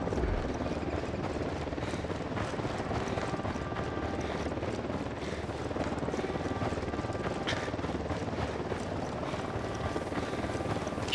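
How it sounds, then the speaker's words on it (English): A helicopter in the Ghost Recon Wildlands video game throbs steadily throughout, a continuous rotor drone mixed with gunfire-like clicks and game ambience, with faint voices underneath. "Chopper inbound."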